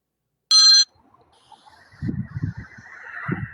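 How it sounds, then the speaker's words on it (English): A telephone gives one short, loud electronic ring, then fades into quieter room noise with low thuds and shuffling. "I heard a phone."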